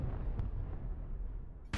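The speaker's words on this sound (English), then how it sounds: "Artillery" Artillery strike in MechWarrior Online: low, rumbling booms roll through a muffled soundscape, with a short sharp crack early and a louder burst right at the end.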